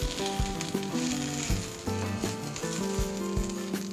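Spice powders and salt are stirred into green brinjal curry frying in a pan, a steady close sizzle overlaid with tonal ringing bursts and scraping stirs, no voices present.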